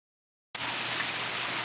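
Heavy rain during Hurricane Sandy cuts in suddenly after silence as a steady, dense hiss of falling water, close and even.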